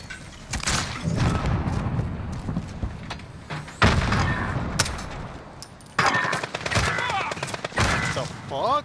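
Gunfire in Call of Duty: Modern Warfare rings out as loud, sharp bursts and single heavy reports, with one shot piercing a brick wall, punctuated by thuds and booms across an intense match, with some voices mixed in.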